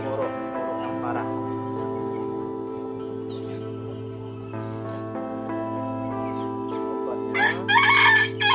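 Chickens with a severe respiratory illness (ngorok) cluck and crow in a coop, a rooster crowing loudly near the end over a steady background hum, with faint rain-like patter.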